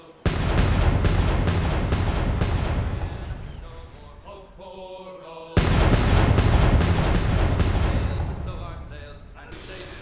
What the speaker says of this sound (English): I could not resist to demonstrate the cannons for funsies